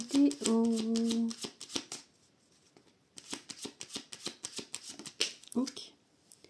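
Tarot cards being cut and shuffled by hand, a rapid run of crisp riffling flutters near the microphone, preceded by a brief spoken remark.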